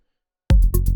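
After half a second of silence, a loud, punchy Arturia MicroFreak synth line starts, with rapid pulsing notes over a heavy low end.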